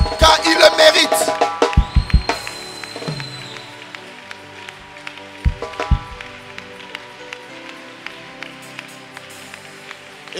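A church congregation claps in uneven bursts of sharp, close hand claps with scattered taps. Music tones sound underneath, and the claps thin out toward the end.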